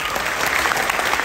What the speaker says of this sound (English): We've been clapping for a straight, like, almost hour.